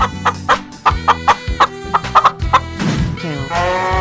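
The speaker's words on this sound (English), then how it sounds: "chicken," Cartoon chicken in a 3D animated animal slide game clucking in a loud, quick run of sharp clucks, followed by a drawn-out squawk, with no talk.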